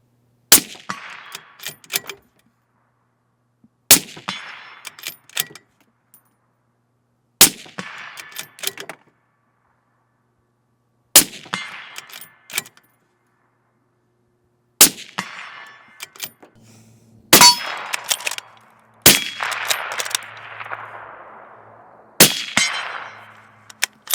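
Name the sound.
suppressed .308 rifle shots with Fiocchi ammunition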